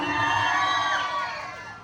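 Crowd at a local pageant erupting in cheers and shouts, a loud rush of overlapping voices and whoops that swells and then tapers off.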